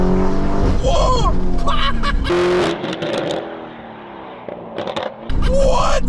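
800 hp Lamborghini Urus engine, loud revving bursts and roaring surges with tire noise, dropping to a quieter whine midway before roaring back; excited voices react over it.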